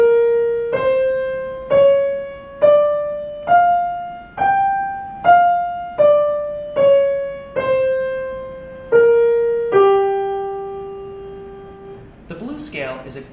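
A blues scale on a single melodic instrument, eleven distinct notes rising then falling in an even, plucked rhythm, each decaying before the next, close and clear, followed by a brief voice.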